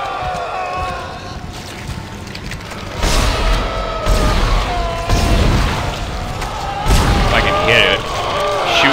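Gunfire against a guardian creature in the sci-fi horror game Dead Space, a series of heavy booming shots spread over several seconds, mixed with game noise and a voice talking.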